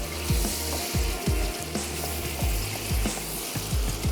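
Potatoes with garlic and ginger paste fry in a pan with a dense, continuous sizzle, punctuated by regular scraping strokes of stirring about every half second, close and steady, with no voices.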